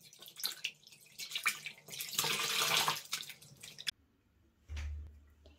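Dish detergent (Fairy) is swished by hand into warm water in a basin to prepare a wash for goat-down yarn knits. Loud splashing and sloshing run for about four seconds, then stop, leaving near silence and a low hum.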